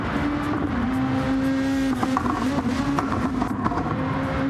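Race cars engines whining in a Flatout racing league event at Laguna Seca, a steady high-pitched drone with shifting revs and tire noise, dense and continuous without speech.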